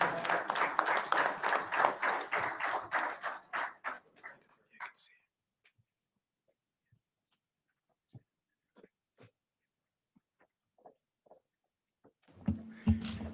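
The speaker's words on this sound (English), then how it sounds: "a round of applause as they come up" Applause from a conference audience for a panel taking the stage at an Army installation event, loud and dense for about five seconds, then fading out into near silence with a few scattered sounds.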